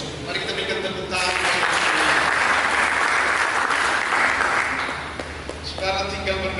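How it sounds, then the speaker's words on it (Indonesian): Church congregation applauding in a sanctuary, a sustained wash of clapping that swells after a brief spoken lead-in and fades out near the end as talking resumes. "Mari kita berikan tepuk tangan"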